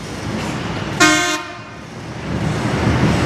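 A single loud car horn blast of about a third of a second sounds close by on a road, over a steady hum of traffic.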